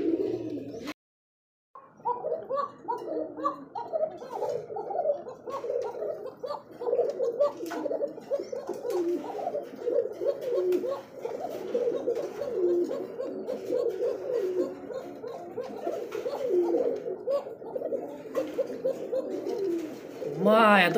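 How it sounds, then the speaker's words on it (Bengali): Black Rasgolla fancy pigeons at a breeding farm coo in repeated low, throaty phrases, close and fairly loud, with voices talking intermittently over the calls. "পকা কবুতরের ডাক দেখছেন?"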